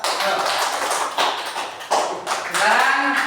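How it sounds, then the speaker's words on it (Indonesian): A classroom of students claps for a group in short, uneven bursts, with voices talking over the patter. "Beri tepuk tangan ke kelompok 2."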